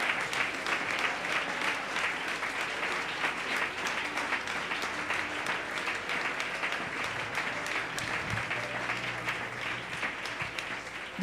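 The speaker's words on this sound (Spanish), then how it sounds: "Dele ese aplauso al Señor." A church congregation applauds during a sermon, many hands clapping in a long, steady, fairly even roar that carries on for several seconds with slight fluctuations and no voice over it.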